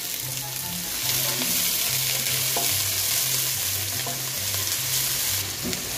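Onions sautéing in hot oil, a crisp steady sizzle with occasional spatter pops, close to the pan and heard alone without talk.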